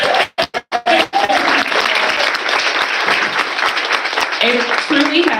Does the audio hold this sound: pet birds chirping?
no